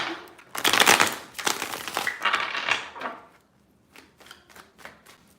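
Tarot cards are shuffled by hand in a burst of crisp riffling and slapping bursts, loud at first, then thinning into a few soft taps and rustles.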